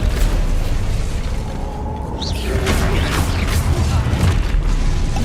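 Explosive spell blasts from a Hogwarts wizarding video game, a sustained rumbling boom with bursting crackles over several seconds, loud and dense, with a brief whooshing shimmer midway.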